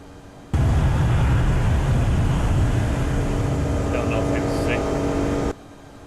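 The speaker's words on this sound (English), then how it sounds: "Sound of the engines are horrible." Airbus A330 jet engines in the X-Plane 11 flight simulator, a steady loud roar of broadband noise lasting about five seconds with faint brief tones near the end, then cutting off abruptly.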